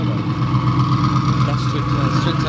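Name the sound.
loud modified car engine idling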